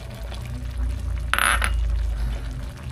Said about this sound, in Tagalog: dagdagan natin ng kunting tubig.